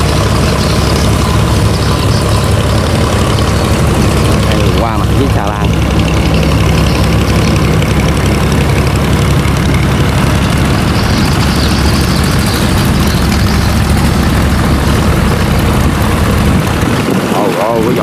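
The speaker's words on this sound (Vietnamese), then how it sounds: "Trên đó hai chiếc ghe bầu đang chạy trái xuống," Loud, steady low diesel engine drone from cargo boats on a river as they pass a barge, continuous throughout with a person talking over it.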